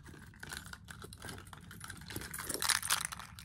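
Keys on a keyboard clatter in quick, uneven bursts of typing, close and fairly soft, with no voice over the steady tapping.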